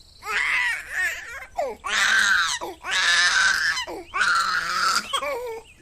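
A hungry baby cries in long, wailing bursts separated by brief gasps, loud and close, repeating about four times.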